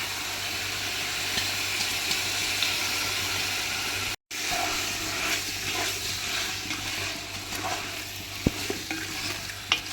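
Chicken masala with tomatoes and curd fries in a pan, a loud, continuous close sizzle with stirring scrapes throughout and one brief dropout. No talk.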